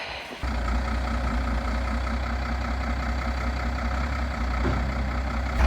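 A truck engine idles steadily and loudly on a road in Kyrgyzstan, a continuous low rumble starting after a brief dip, with no talking.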